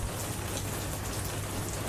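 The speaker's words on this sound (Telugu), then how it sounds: "ఇంకా వర్షం అయితే తగ్గలేదు." Steady rain falls on a rainy evening, a dense, even hiss of drops spread across the whole clip with no voices.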